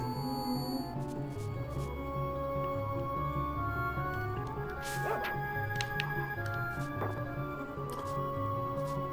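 A dog in the video game Secret of Evermore gives a few short yips and whimpers over steady game music and ambience, with no talk.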